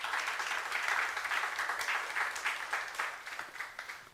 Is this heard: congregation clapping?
yes